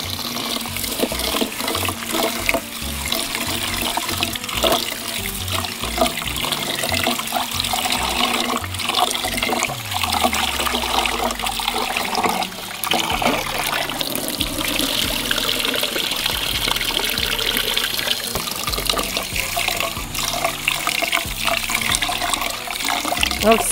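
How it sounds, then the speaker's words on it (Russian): Rice is rinsed under a steadily running tap for a dacha-style plov, water gushing and splashing continuously into a sink at close range, with occasional clatter and brief speech mixed in. "Все, я мою рис."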